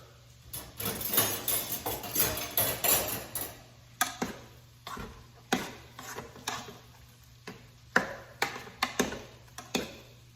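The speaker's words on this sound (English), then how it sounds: "And we'll give that a good stir." Broccoli being stirred in a pan during low carb meal prep: irregular clacks and scrapes of a utensil against cookware, close and moderately loud, with no talking.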